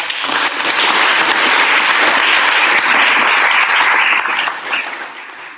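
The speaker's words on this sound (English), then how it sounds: "Can I please get a round of applause?" A panel audience gives a round of applause, a loud, thick burst of many hands clapping at once that holds steady and then tapers off near the end.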